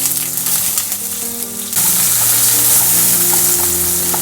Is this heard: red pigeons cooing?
no